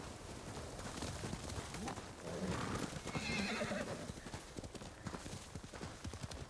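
A horse in Ghost of Tsushima gives a loud, close neigh and whinny midway, amid steady clip-clop hoofbeats and game ambience, with no talk.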